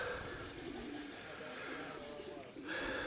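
Racing pigeons arriving at a loft during a one-loft race, with soft cooing calls spread through steady outdoor background noise; a faint voice is present.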